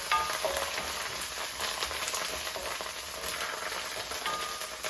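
Curry leaves and red chilies crackle and sizzle in hot oil for the whole stretch, a dense, steady hiss with scattered pops and light stirring, close and fairly loud with no talk.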